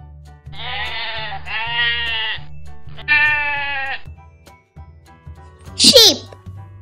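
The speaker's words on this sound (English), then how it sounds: "Sheep." A sheep bleats in several long wavering calls, loud and close, with a short high squeal near the end over a low background hum.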